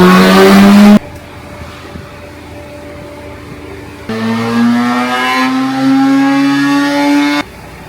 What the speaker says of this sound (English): this is going to be the first run after the fixes and changes on a different dyno